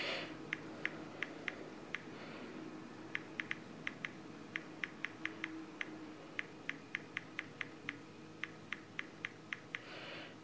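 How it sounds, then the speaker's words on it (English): Quick, faint taps from typing on the Fleksy Android keyboard app come in bursts of regular clicks over a soft background hiss. "So let's just start typing on it and I'll show you how it works."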